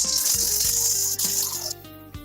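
Rushing water runs steadily over a rusty Yamaha racing motorcycle wheel during a final vigorous wash, a loud continuous hiss that cuts off into quieter dripping near the end.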